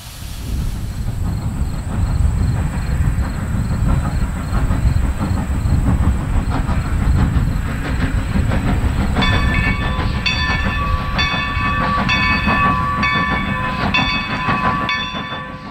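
A Strasburg Rail Road steam train runs past with a loud, continuous rumble and rolling rail noise, joined midway by a sustained chiming bell ringing in steady rhythm.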